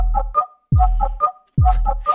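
Three repeated layered synth sample hits without global processing, each a deep bass tone sliding downward under a brighter tonal layer with fluttering mid-range notes; punchy and dry, with short gaps between.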